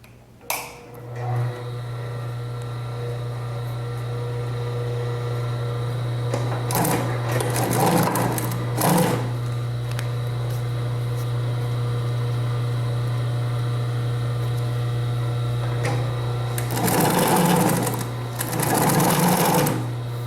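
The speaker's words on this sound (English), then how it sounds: "then sew it all the way down, and then do your lock stitch at the end there" Sewing machine stitching a straight basic seam, a steady mechanical whir with short louder bursts of rapid needle chatter, close and prominent over a constant low hum.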